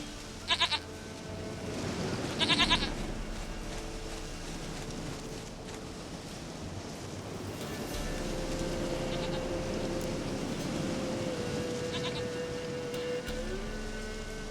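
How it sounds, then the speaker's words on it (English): Goat bleating in The Witcher 3, two short nasal bleats near the start with a third shortly after, over a steady low game ambience and music, followed by quieter bleats near the end. "sweetest goat."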